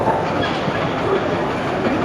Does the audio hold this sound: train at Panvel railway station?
yes